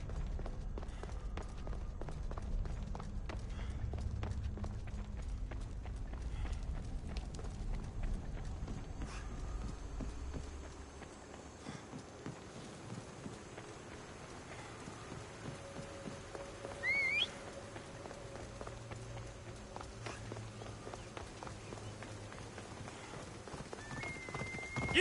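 Horse hooves gallop in a rapid, steady clip-clop rhythm in Assassin's Creed Odyssey, loud and close at first, then thinning out and softer after about ten seconds, with a brief louder burst near the seventeen-second mark.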